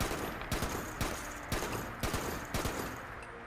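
Gunshots in Fallout 76, a steady rhythm of loud bursts roughly every half second, fairly close and prominent with no talk over them.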